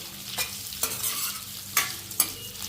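Two onions stirred and frying in a pan for chilli chicken, with steady sizzling broken by four sharp scraping stirs, close and moderately loud.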